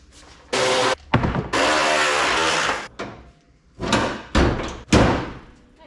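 Hood of a Chevy C10 truck being fitted and shut, with heavy metallic clunks and scraping thuds in uneven bursts, then several loud slams close by.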